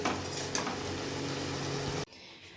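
Fish kalia curry made with katla being stirred in a pan on a gas stove, a continuous close sizzle with light scraping and a clink, cut off abruptly near the end as the flame goes off.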